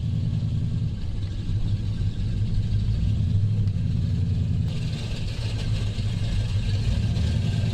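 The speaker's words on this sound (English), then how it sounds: "It will not turn over fast enough." A Jeep Grand Wagoneer that sat seized for years, its engine turning over slowly with a steady, heavy low rumble that drones on without catching.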